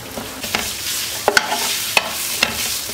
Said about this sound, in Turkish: Kıymayı biraz kavurayım.